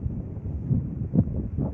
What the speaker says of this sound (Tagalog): Grabe, ang lakas ng hangin dito sa lugar ko.